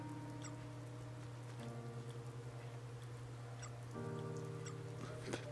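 Steady rain pattering in a video game's outdoor scene, with a soft continuous hiss over a low humming game soundtrack. The sound stays even throughout, with no voices.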